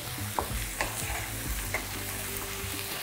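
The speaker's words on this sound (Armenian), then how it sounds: "Այսինքն տապակում ենք այնքան, մինչև կարմրի։" Mushrooms fry in a pan while being stirred until browned, a steady close sizzle with scraping stirring strokes throughout, no voices.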